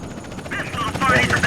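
An airplane in the video game GTA San Andreas, a rising engine drone with whirring, rotor-like pulses, loud and close, heard under someone talking.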